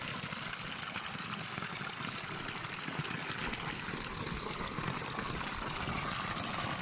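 Creek water flowing in a steady, continuous trickling rush, close and even in level throughout, with no one talking over it.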